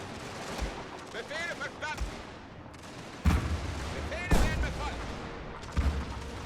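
Troops firing volleys at Russians in a strategy video game, with sharp musket-style gunshot volleys at intervals over steady battle ambience and brief whistling tones.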